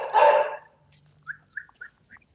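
Dog at home gives one loud, close bark, followed by several short, fainter yips and whimpery sounds spaced out over the next second, with no talk.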